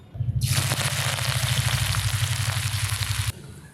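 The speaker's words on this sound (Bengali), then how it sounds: "এই তেলে কিছু পেঁয়াজও ভাজবো" Onions frying in hot mustard oil in a wok, a loud, steady hiss and crackle that starts abruptly and runs evenly for about three seconds before cutting off.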